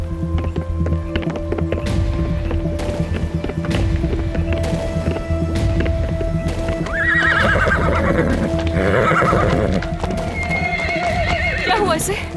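A horse neighs and whinnies with hoof clip-clops under ongoing dramatic music, and voices talk nearby.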